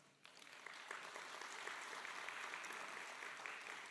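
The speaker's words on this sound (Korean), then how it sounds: "따뜻한 격려의 박수를 보내드립니다" Party members applaud the two candidates at a Korean political party convention, a soft, even wash of distant clapping that starts abruptly and holds steady throughout.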